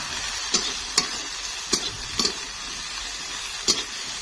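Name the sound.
tomato and onion frying in a pan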